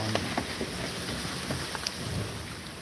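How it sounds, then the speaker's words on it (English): Steady rain falling everywhere outdoors, a dense close hiss of drops with scattered louder spatters, no voices. "it's raining everywhere"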